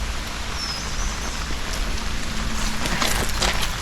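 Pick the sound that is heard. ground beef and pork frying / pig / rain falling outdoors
rain falling outdoors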